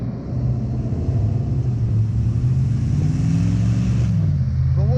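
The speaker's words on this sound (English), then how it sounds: "I apologize for all the traffic noise." Road traffic passes beside a trail on a hot day, a steady engine rumble rising and shifting in pitch as vehicles go by nearby, loud and continuous with no talking.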